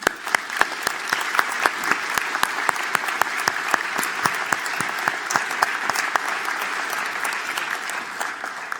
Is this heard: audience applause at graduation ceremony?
yes